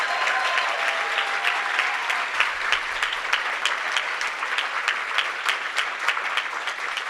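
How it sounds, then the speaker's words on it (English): An audience at a cherry blossom grand ball applauds steadily, with dense, even clapping that carries on for about seven seconds at moderate volume. "Will you please give these women a huge round of applause?"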